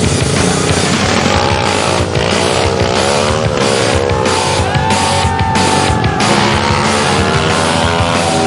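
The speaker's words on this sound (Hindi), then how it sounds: "ये बाइक पर खतरनाक स्टंट करते हैं।" Loud motorcycle engines roar and rev continuously during street stunt riding and wheelies in Delhi NCR, pitch climbing and dropping as the bikes accelerate, a dense, unbroken wall of engine noise.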